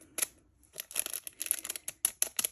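A plastic packet of diamond painting drills is torn and picked open up close. Quiet crinkles and small tearing snaps come in irregular bursts with brief pauses, and nobody speaks.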